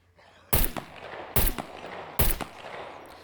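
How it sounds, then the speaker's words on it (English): .22 pistol shots in the survival game SCUM: three sharp, evenly spaced cracks about a second apart, each with a brief echoing tail over a quiet background. "the 22 pistol seems pretty effective"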